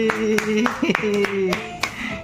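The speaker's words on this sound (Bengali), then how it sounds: "হাততালি হাততালি" Several sharp hand claps at a family gathering, spaced irregularly and fairly close, mixed with a child's and adults' voices talking and singing over them.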